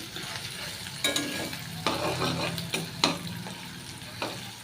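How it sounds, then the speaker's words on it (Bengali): Onions stirred and fried in a pan until reddish: a steady hiss of frying broken by several sharp scraping strokes of a spoon against the pan, close up with no voices. "পেঁয়াজটাকে একটু ভেজে নেব লাল করে"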